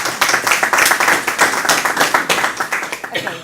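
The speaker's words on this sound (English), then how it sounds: "Give her a round of applause." Audience applause for a speaker at a mediation service operations report event, a dense steady patter of many hands clapping close by, continuing evenly for a few seconds before thinning slightly at the end.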